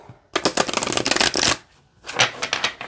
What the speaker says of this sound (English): Or you can just do a straight shuffle.